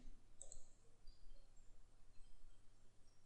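Computer mouse clicking during engineering simulation software work, a couple of faint, quick clicks early on, then a quiet room hum.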